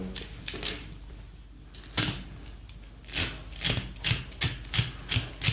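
Wool fabric is cut with a makeshift tool instead of scissors, giving sharp, fairly quiet snipping and scraping clicks in uneven bursts that settle into a quicker repeated rhythm.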